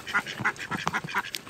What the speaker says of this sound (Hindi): वो चावल डालने देने से तो बत्तख खाने को मारपीट हो जा रहा है।